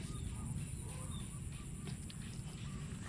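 Ducks call in honking, quacking bursts while being herded into a pen, over a steady, noisy rumble of background sound.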